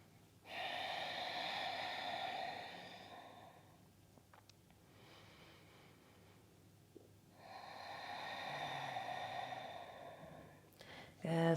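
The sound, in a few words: slow breathing during a yoga twist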